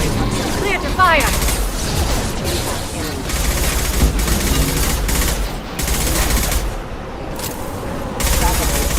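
Sustained gunfire rattles in dense bursts during a Mass Effect 2 firefight, loud and near, with short pauses and voices talking over the shooting.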